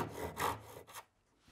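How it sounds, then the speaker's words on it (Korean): A hand saw cuts relief cuts into a wooden cat carving, giving three or four short, quiet rasping strokes in an uneven rhythm before falling silent. "오목한 곳에다가 톱 자국을 내줍니다"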